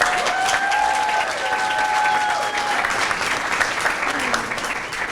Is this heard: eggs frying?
no